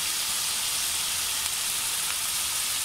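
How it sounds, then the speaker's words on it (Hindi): Minced meat frying in a pan with large tomatoes added, giving a steady, close, broadband sizzle with faint hiss throughout and no talking. "अब कीमे को भी हमने कलर बदलने तक या उसकी खुशबू आने तक अच्छे से फ्राई कर लिया है"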